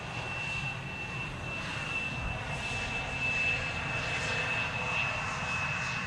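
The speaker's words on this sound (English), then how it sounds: "Now lined up. And seems to be spooling up and moving." Jet airliner engines spool up at Amsterdam Schiphol Airport on a sunny day: a steady, distant broadband roar with a thin high whine held throughout, no voices.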